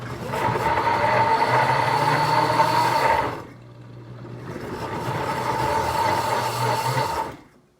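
Deluxe cooking blender whirring loudly as it starts on a carrot ginger soup, a steady motor roar that briefly drops to a low hum before surging again and then stopping.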